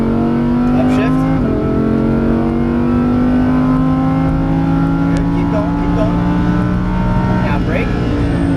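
Lamborghini Huracan LP610-4 accelerating hard on a race track, a loud, steady engine howl rising in pitch through the gears, with an instructor talking over it from inside the car.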